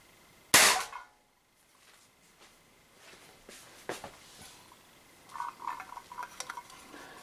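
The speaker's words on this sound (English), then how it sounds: "So, about just over a meter distance, shooting at that tin can." An Umarex HDP50 pistol fires once at a tin can just over a meter away, giving a single loud, sharp crack. Faint metallic clinks and rattles follow as the can is struck and moves.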